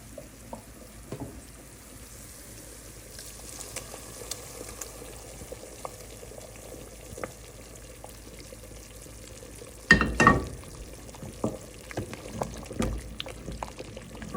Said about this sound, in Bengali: পেঁয়াজের ব্রেস্তাটা হয়ে গেছে এখন এটা হালিমে অ্যাড করবো